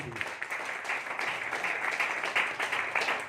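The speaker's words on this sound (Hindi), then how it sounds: "जोरदार शानदार तालियां।" An audience at a business-plan seminar claps enthusiastically, a sustained, fairly even burst of hand claps at moderate volume with no speech over it.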